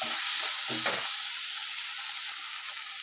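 Paneer frying in a pan, a continuous bright, close sizzle with a short low knock near the start.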